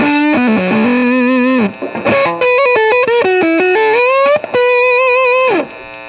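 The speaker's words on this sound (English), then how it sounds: "The problem also gets significantly worse if I introduce some distortion to my sound." A loud distorted electric guitar playing a phrase of sustained, bending notes with a thick, saturated tone, no voices.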